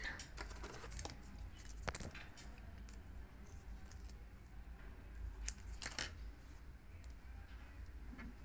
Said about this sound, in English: So I'm going to cut off my yarn.